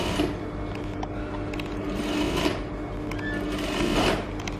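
A sewing machine stitches the folded half-inch edge of a tiered skirt fabric, a close, continuous rapid clatter with slight pulses in speed.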